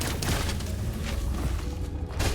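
A grenade detonates in the sci-fi game Cygnus Enterprises, a dense rumbling blast that fills the whole moment with a sustained, noisy roar.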